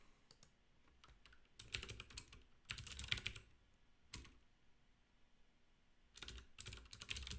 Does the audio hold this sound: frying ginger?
no